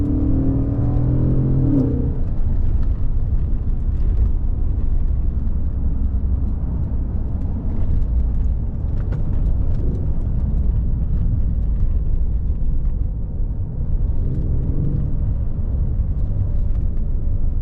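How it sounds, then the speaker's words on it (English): A 2016 Mercedes-Benz S550 Coupe with a Renntech ECU tune, its exhaust droning steadily and loudly from start to finish with a rising rev near the start and again toward the end, heard close from inside the car. "Sound in this car, exhaust wise, I rate it a 10 out of 10."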